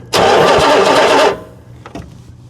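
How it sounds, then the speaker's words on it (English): A 1968 Chrysler Imperial engine with exhaust leaking from the back of the motor gives a loud, close roaring burst lasting about a second before dropping to faint low rumbling and a couple of small knocks. "there's exhaust gases coming from the back of the motor. You can actually hear it."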